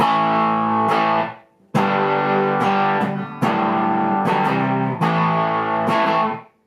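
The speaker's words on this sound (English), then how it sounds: "let's back the distortion off the pedal a little bit too, just to kind of give you some idea of the flavor you can get" An electric guitar plays through a modded Boss DS-1 distortion pedal with the Penguin Mod, its distortion turned down to moderate gain, ringing out several loud sustained chords with short breaks between them.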